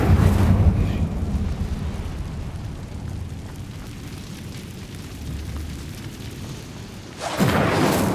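Incendio fire spell blast in the video game Hogwarts Legacy: a loud, deep burst at the start that fades into a low rumbling roar, then a second heavy whoosh near the end.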